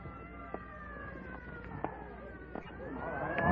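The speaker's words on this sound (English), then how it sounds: "Clear the way for the ambulance." An ambulance siren wails faintly in a vintage radio drama, a steady rising and falling tone under background noise with scattered sharp knocks, growing somewhat louder at the end.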